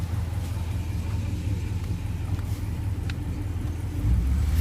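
Hemi V8 swapped into a Dodge Dakota, a deep, steady engine rumble close by that swells louder near the end, with no talk.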